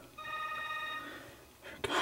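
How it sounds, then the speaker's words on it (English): A telephone bell rings in a short electronic trill, fairly close, ending abruptly as a louder clatter cuts in. "Why does that phone always ring when I'm making videos?"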